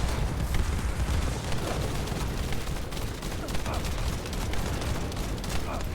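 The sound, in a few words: gunfire shooting at a boss in the video game The First Descendant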